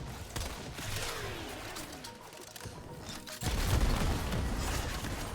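Primary weapon fire mixed with Zorus alternate-fire blasts in the game Warframe, a dense stream of gunfire and explosive bursts that grows louder and heavier midway, with no talk over it.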